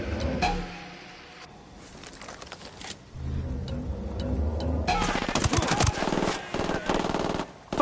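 Rapid automatic gunfire in the shooter Ghost Recon Wildlands, long sustained bursts of machine gun fire crackling loudly over a rumbling background, with a short lull before the shooting resumes.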